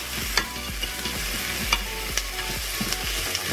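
Onions fry in a Cookeo pot, making a steady close sizzle broken by sharp, repeated utensil scrapes and taps.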